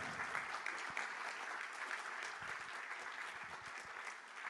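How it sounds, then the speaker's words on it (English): Steady applause from a gathered audience fills the space for several seconds, a dense wash of many hands clapping at once at an even, sustained level. "Let's give him a round of applause"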